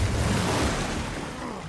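Ocean surf in Uncharted 3 gives a broad, steady wash of water and wind that stays loud and close and tapers off slightly toward the end, with no voices over it.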